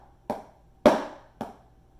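Single drum strokes on a snare or practice pad; three crisp hits sound alone and close, the middle stroke clearly accented and louder, each followed by a short ring.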